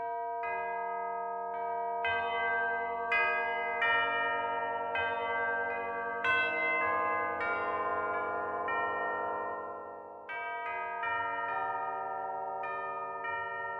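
Sampled tubular bells from VSL MediPads, sound-designed with Phoenix, struck one after another in a slow sequence of bright metallic tones that ring and overlap with long sustained decay, with no talking.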